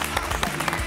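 Television audience applauding a rock band, a brief, dense burst of clapping close up with a murmur of voices underneath.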